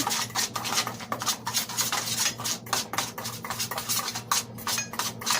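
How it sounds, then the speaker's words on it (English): A utensil stirs homemade season salt spice mix in a dish, giving steady close scraping and clinking strokes against the container, alone without talk. "Stir it up a little bit."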